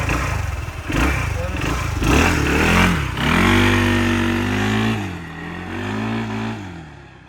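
An RKS Blade 350 motorcycle rides through city streets, its engine revving up and down in rising and falling tones close to the microphone, with a rider's voice talking faintly in places.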